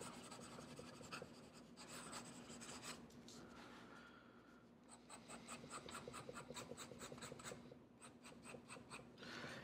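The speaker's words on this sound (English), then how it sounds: "Fast writing." A Platinum 3776 fountain pen with a coarse nib scratches quickly across paper. Close, quiet, continuous rasping strokes come in short bursts with brief pauses.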